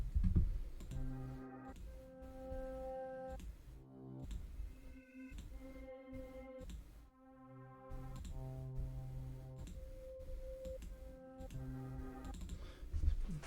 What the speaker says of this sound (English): Let's keep clicking around here.